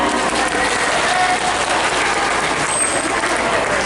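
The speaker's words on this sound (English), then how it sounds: "We can give her a big round of applause for that." A dense wash of audience applause at an aquarium sea lion show, steady and loud, filling the few seconds without pause.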